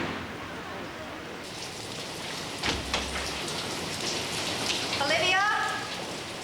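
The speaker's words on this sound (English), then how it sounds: "In the rain?" Steady rain falling hard, a dense close hiss of drops on surfaces throughout, with a few knocks and a brief voice partway through.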